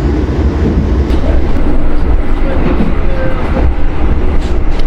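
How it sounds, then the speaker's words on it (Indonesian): Taksaka Malam train rushing past in the opposite direction, heard from aboard the Argo Lawu: a loud, dense, continuous roar and rumble of rolling rail noise, close and unbroken throughout. "Berpapasan dengan kereta api Taksaka Malam dari Yogyakarta dengan tujuan Gambir, Jakarta."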